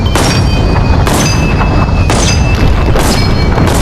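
Loud, dense gunfire from a weapon in the VR shooter Bonelab, with several sharp booming shots over a continuous rumbling battle din.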